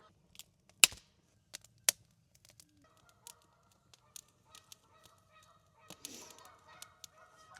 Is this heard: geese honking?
yes